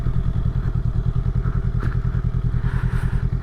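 A Honda Rebel 500 and other motorcycles nearby give a loud, close, throbbing low engine rumble with rapid pulsing exhaust beats and occasional clatter, steady throughout with no talk.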